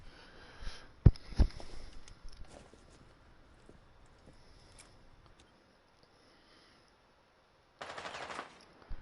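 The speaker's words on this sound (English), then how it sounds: "Zofia's kind of just firing blindly, trying to get any shot she can" Video game gunfire in a Rainbow Six Siege style 1v1 round, a couple of sharp, loud shot bursts early, then quiet scattered sounds and a noisy burst near the end.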